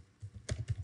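Keys clacking on a computer keyboard while code is typed, a brief burst of a handful of quick close taps in an uneven rhythm, with no talk.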